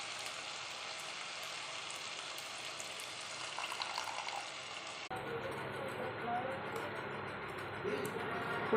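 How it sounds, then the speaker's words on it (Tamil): Dissolved tamarind water is poured into a simmering sardine fish curry, a steady soft watery rush that shifts in tone partway through as the liquid meets the pot, fairly quiet throughout. "இப்போ புளி கரைச்சி ஊற்றிக்கலாம்."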